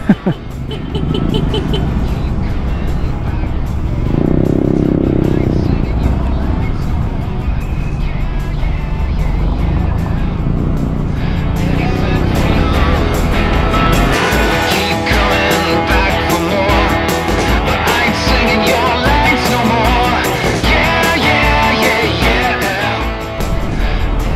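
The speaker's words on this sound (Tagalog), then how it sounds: "Ito na yung hinahanap natin na traffic." Road traffic surrounds a rider on a 125cc motorcycle, engine and wind noise rumbling continuously and growing busier partway through, with someone talking over it at times.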